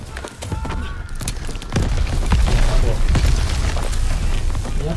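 Bangalore torpedo blast in the Call of Duty WWII D-Day campaign: a loud, deep boom erupts partway through and rumbles on amid battlefield din, with shouted soldier voices heard over the fighting.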